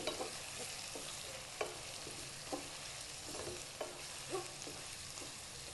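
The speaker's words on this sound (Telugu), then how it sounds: "వేగాయి నూనెలో ఒకసారి బాగా కలుపుకొని" Small onions frying in oil for a tangy onion stew, with a steady crackling sizzle and a spoon stirring through them in soft periodic scrapes about once a second, heard up close and fairly quietly with no voices.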